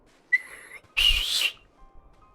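A person trying to whistle produces a short high tone, then a breathy, hissy burst of air with a faint pitch, fairly loud and close, alone without talk.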